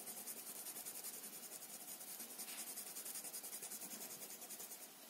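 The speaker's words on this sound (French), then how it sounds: "Je colorie le contour." A pencil colours in an outline on paper with quick, rhythmic back-and-forth strokes, a soft close scratching that continues steadily and faintly, with no voices.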